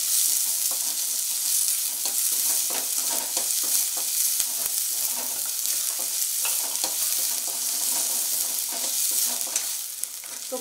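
Chopped garlic and onion fry for gobi manchurian, hissing and crackling continuously in hot oil while a spoon stirs and scrapes across the pan in irregular strokes, with no talking.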